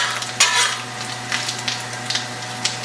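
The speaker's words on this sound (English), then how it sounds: "We're going to let these cook up a little bit in that bacon grease." Vegetables frying in bacon grease in a warm skillet, a soft steady sizzle broken by several brief louder crackling bursts, heard up close with no talking.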